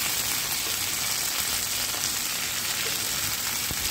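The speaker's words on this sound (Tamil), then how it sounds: "நல்லா எண்ணெயில் வதங்கட்டும்." Brinjal pieces frying in sesame oil in a pan, a steady dense hiss and crackle that stays even throughout, close and alone with no voices.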